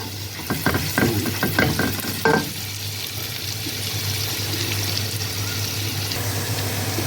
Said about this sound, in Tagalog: igigisa ko sa garlic pala